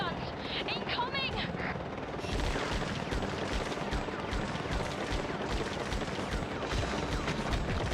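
Heavy .50 cal machine gun fire in the video game Cold Winter rattles in dense, continuous bursts over a thudding helicopter rotor, with excited voices shouting through the din.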